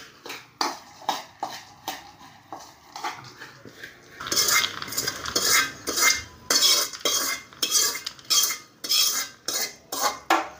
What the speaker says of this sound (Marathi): 2 मिनिटं असं जरा गरम असल्यामुळे परतून घेते।